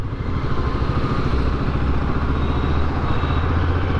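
A Royal Enfield Himalayan 450 rolls along in second gear on its own at low speed, the single-cylinder engine giving a loud, steady mechanical drone with faint clatter, close and without talk.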